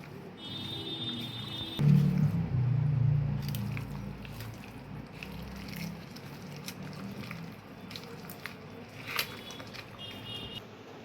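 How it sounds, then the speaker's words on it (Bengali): Hands squish and knead mutton pieces coated in spices and raw mustard oil, a soft wet squelching that comes in close bursts, loudest early on then continuing more quietly, with no talk. "এবার খুব ভালো করে আমি সমস্ত মশলাগুলো মাংসর গায়ে আমি মাখিয়ে নেব"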